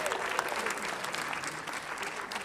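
Audience applause for a musician at a spiritual gathering, a steady dense patter of many hands clapping that holds evenly throughout, with faint voices beneath.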